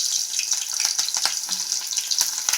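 Chopped onions frying in well-heated oil in a kadai, giving a steady, loud, close sizzle with crackling pops throughout and no talking.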